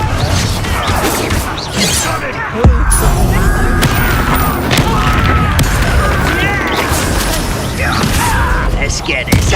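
Loud booming blasts from the Confringo explosion spell in Hogwarts Legacy, heavy impacts and crashes amid combat effects while a player shouts over them.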